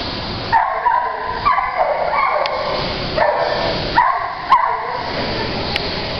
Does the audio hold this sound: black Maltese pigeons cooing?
no